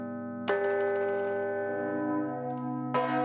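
Two clear strokes from an old Swiss church tower bell mark the quarter hour, spaced a few seconds apart, each ringing on with a sustained, shimmering decay; heard up close with no voices.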